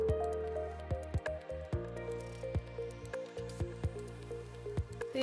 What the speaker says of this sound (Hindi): घी में जो है हम ये ग्रेट किया हुआ जो गाजर है वो हम डाल देंगे।